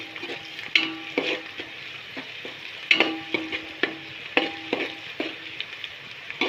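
Onions frying in a pan over low gas, stirred with a spoon: a steady close sizzle with repeated rhythmic scrapes and taps of the spoon against the pan, no talking.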